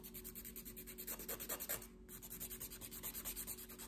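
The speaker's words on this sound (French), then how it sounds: "je passe un petit coup de lime banane. Voilà, pour enlever un petit peu déjà de gel" A banana nail file scraping gel off false nails, quick back-and-forth rasping strokes in a fast even rhythm with one brief pause, close up and faint.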